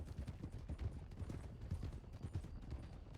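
Horse hooves galloping in Red Dead Redemption 2, a quick, rolling, muffled drumming that stays soft and continuous throughout.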